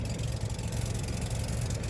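A farm buggy's 22-horse V-twin engine runs steadily nearby, making a loud, rough, continuous low rumble with a knocking pulse throughout and no voices over it.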